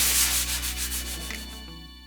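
Steady rhythmic hand sanding of a chalk-painted upholstered chair seat, repeated rubbing strokes close up, quiet and alone.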